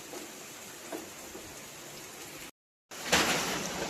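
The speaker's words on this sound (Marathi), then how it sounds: "रात्रीपासून थोडा थोडा पडतोय पाऊस" Light rain falls steadily in the Konkan countryside, a soft even patter broken by a brief silent gap, then resuming slightly louder and closer.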